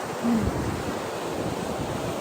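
Creek water rushes steadily at a Vallecito Creek campsite, a continuous broadband wash that stays close and fairly loud throughout, with no voices over it.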